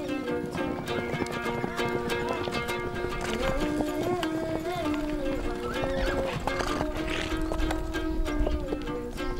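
A herd of horses, including unbroken colts, whinnies with hooves clattering continuously over steady music, on the move throughout.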